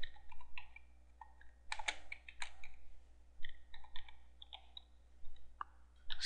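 Fingers type text on a computer keyboard while building a WordPress website: quick, irregular runs of crisp plastic key clicks, close and fairly quiet, with short pauses between bursts.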